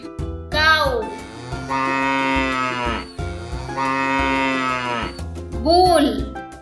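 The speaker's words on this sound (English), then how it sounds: "cow" Cow mooing loudly and close in two long, drawn-out lows separated by a short pause, with a brief voice naming the animal at the start and end.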